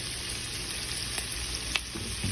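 Peppers, onions and squash fry in a skillet with a steady close sizzle and a couple of light stirring scrapes, no voices.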